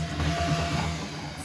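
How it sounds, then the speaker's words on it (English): A Bambu Lab X1 Carbon 3D printer running a fast print job gives off a steady mechanical hum with low motor tones and a faint airy hiss, close and continuous, with no talk. "This printer is so fast."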